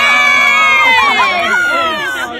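A crowd of children cheers and shouts loudly and steadily through the finale of a cups and balls magic trick, voices high and overlapping with no distinct clapping standing out.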